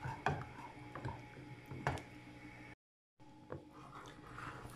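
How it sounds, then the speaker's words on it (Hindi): A spoon stirs jaggery caramel cooking in a pan over a low flame, giving soft, irregular scraping and clinking knocks with a brief pause near the middle. "अच्छी तरह चम्मच चलाते जाएंगे, चम्मच आपने चलाते जाना कि नीचे से गुठलियां ना बने।"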